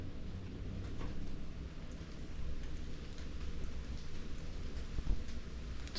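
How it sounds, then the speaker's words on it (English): Steady rain patters on a hiking camp on a dreary morning along the Laurel Highlands trail, a soft, continuous hiss with a few louder drops, fairly close and unbroken, with no voices. "It's a dreary, rainy morning."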